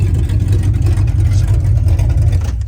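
A 1975 Chevrolet C-10 truck engine idles loud and rough with no exhaust fitted, still cold after being backed out of a garage, a steady low rumble throughout, close by and continuous.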